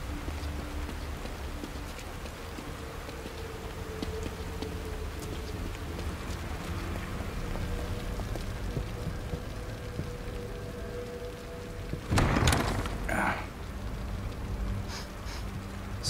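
Rain falls in the video game The Evil Within, a soft continuous patter under a low ambient drone, broken near the end by a few sharp louder knocks.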